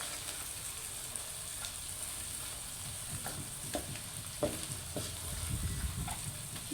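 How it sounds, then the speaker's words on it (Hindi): Eggs and boiled potatoes frying in oil for an aloo anday salan, a steady close sizzle with occasional crackles and pops, no talking. "इसे अच्छे से पका लेंगे ताकि एग्स अच्छे से पक जाएं और ऑयल निकल आए।"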